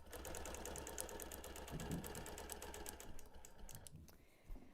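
A sewing machine quilting a seam with green thread runs in a fast, even rhythm of needle strokes, close and steady, with the motor hum underneath before it briefly slows and stops near the end.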